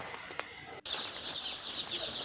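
Many chickens at a poultry farm in winter cluck and chatter in a dense, continuous chorus, fairly soft but close. It follows a brief gap near the start.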